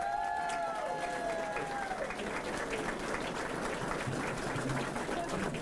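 An audience applauds swim coaches at the grand opening of an aquatic center, a steady wash of clapping in a reverberant space, with a whistle-like tone sliding at the start and faint crowd voices underneath.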